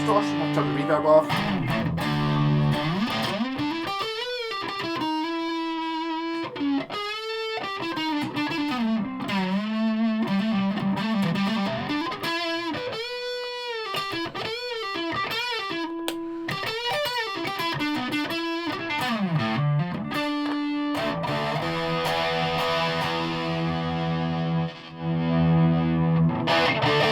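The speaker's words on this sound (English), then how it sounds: "amp distortion, I've turned the reverb off." Michael Kelly superstrat electric guitar on a single-coil pickup through amp distortion with reverb off, playing a continuous sustained distorted melodic line with bends and held notes, loud and dry.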